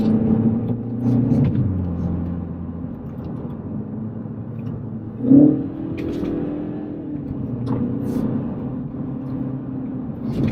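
A MINI John Cooper Works petrol car's engine hums as a steady, low rumble while driving, with one brief thump midway and no talk over it.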